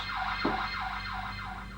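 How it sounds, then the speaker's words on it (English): A 1980s glass-break burglar alarm, triggered by an impact and breaking glass, wails in steady rising and falling sweeps, loud and continuous with a brief thump near the start. "It works because of a clever microchip which is specifically designed to trigger the alarm only when it senses the bang of an impact"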